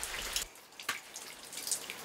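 Rain drips on a quiet day, with scattered soft drops and a few sharper taps over a faint, steady wash of water.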